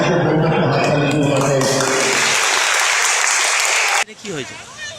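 An audience claps at a Bhatar karate academy event in East Bardhaman. Someone speaks first, then a dense burst of applause runs for about two seconds before stopping abruptly, and quieter talk follows.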